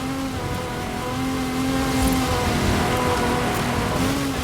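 Engine of a car in a racing video game, a steady droning hum with a wavering pitched tone, loud and continuous throughout with no talk.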